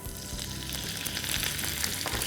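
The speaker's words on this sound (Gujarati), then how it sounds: "સો આપણો રાઈનો વઘાર પણ અહીંયા થવા લાગ્યો છે." Mustard seeds sizzle in hot oil for a tempering, a steady, crackling hiss with small pops that stays close and fairly quiet throughout.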